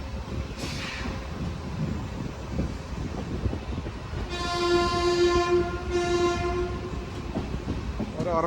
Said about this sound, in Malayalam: ആലപ്പുഴ വഴി പോകുന്ന ട്രെയിനാണ്